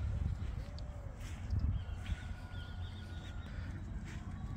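A tostado malacara horse, about 12 or 13 years old, gives a whinny with a few hoof clops over steady low outdoor rumble, with people audible nearby.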